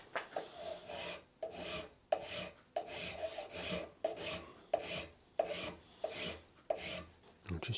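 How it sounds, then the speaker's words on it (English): A metal file rasps on a guitar truss rod cover held in a small vise, about a dozen even back-and-forth strokes in a steady rhythm, close and clear. "we'll just kind of take a little bit of this out with a file"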